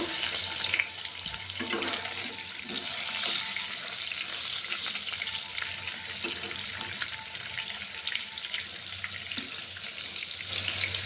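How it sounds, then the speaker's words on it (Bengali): Potatoes fry in hot oil in a home kitchen, a steady, moderately quiet hissing sizzle that continues evenly, with occasional soft bubbling pops and no talking. "তো ফ্রেন্ডস, আমি আলুগুলিকে ভাজার জন্য দিয়ে দিয়েছি। এবার আমি এগুলিকে লাল লাল করে ভেজে নেব।"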